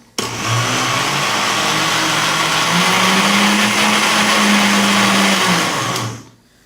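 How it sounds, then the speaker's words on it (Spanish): A kitchen blender runs steadily for about six seconds, blending potato with a little milk: a loud, constant motor whir with a rising pitch as the load thins, then a quick spin-down to silence. "licuar bien la papa con un poquito de leche"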